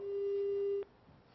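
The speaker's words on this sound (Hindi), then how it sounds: "शायद फोन कट गया है" A steady telephone line tone from a dropped phone call holds for under a second, then cuts off abruptly, leaving a faint low hum behind.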